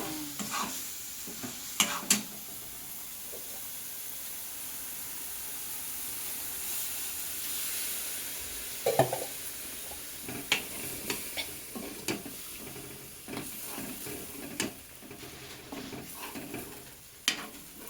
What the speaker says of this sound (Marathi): हे फ्राय करणार.